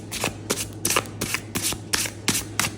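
A deck of tarot cards riffled and shuffled by hand, with crisp papery bursts repeating about every half second in a steady rhythm, close up, with no talking.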